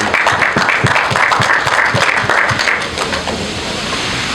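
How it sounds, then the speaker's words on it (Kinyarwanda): A concert crowd at a show applauds loudly, with dense, fairly rhythmic clapping that fills the space before easing a little toward the end. "Twamwongera amashyi"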